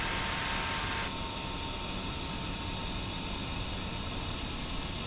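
Microlight aircraft engine in flight at about 2,000 feet with revs raised, a loud, continuous droning roar with steady broadband wind noise, unbroken throughout and no talk.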